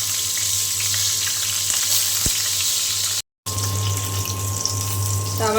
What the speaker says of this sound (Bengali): ডিম ভেজে নেওয়ার জন্য কড়াই সরিষার তেল দিয়ে দিয়েছি